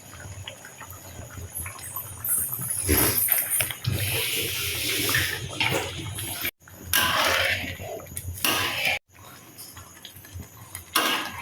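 Half a cup of water poured into a pan while making lentil curry (sambar), gurgling and splashing pours in bursts with pauses, mixed with clinks of a metal vessel and utensils.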